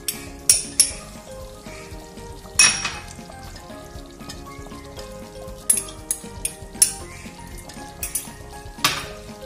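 A spoon stirs thick jackfruit payasam with ghee and cardamom in a metal pot, giving irregular scrapes, clinks and knocks against the pot over a soft bubbling background.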